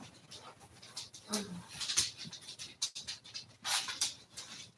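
Dogs pant and whimper indoors, quiet breathy huffs and thin whines coming in uneven bursts with small scratching noises, no talking over them.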